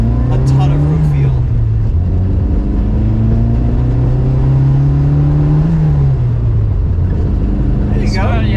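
A classic Mini Cooper drives along, its engine droning and rising and falling in pitch with gear changes, loud and close inside the car while people talk over it.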